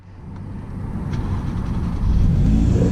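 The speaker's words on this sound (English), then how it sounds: "now let's start the car up" Alfa Romeo Giulia Quadrifoglio engine cranking and catching, a low rumble swelling into a steady, louder idle that holds close and continuous, with no talking over it.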